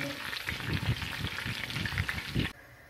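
Chicken frying in a pan for mandi gives a steady close sizzle with repeated scraping and stirring knocks, then cuts off abruptly near the end.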